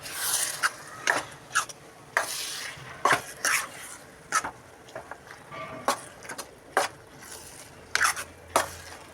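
Rice is stirred and mixed with masala in a pot for a Ramadan dish, producing irregular scraping and clacking strokes of a spoon against the pot, close and moderately loud, with quieter gaps between them.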